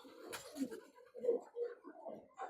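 Pigeons coo softly and closely in a series of low, rolling calls, several overlapping phrases with brief pauses between them.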